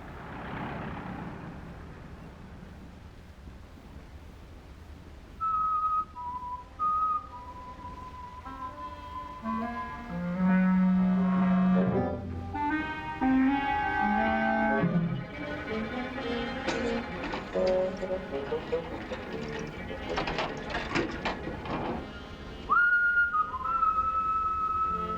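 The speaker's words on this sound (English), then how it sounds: "So these folks communicate better with whistles than the young lady does with words." People whistle back and forth to communicate, a series of clear melodic whistled phrases and tones of varying pitch, some long and sustained, others quick, fairly loud and close, with no speech.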